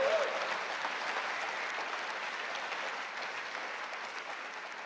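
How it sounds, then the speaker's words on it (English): A large hall at the Labour Party Conference 2025 in Liverpool gives a ripple of applause for a team. The sound is a soft, distant wash of many hands that stays even and slowly fades. "A little ripple of applause, please,"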